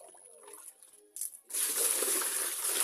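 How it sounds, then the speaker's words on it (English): Water is scooped for rinsing socks: faint clinks and small splashes, then a sustained rush of poured water that fills the rest of the moment. "scoop some water for rinsing"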